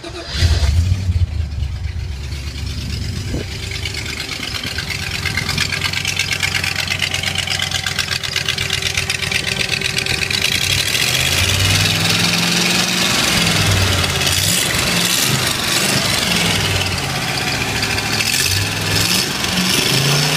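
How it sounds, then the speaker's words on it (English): A Series IIA Land Rover fitted with a Mustang 302 V8 idles steadily and loudly up close, a continuous low rumble that swells slightly toward the end, with no talking over it. "That's how it sounds with a Mustang V8 in it."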